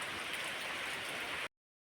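Rain falling on a rainy day makes a steady, soft, even hiss that stays unchanged for about a second and a half, then cuts off abruptly into silence, with no voices.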